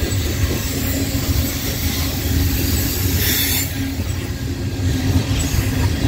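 A Norfolk Southern freight train led by an EMD locomotive passing through Tarentum, Pennsylvania, a loud steady rumble of rolling cars with wheel noise and a brief high squeal midway.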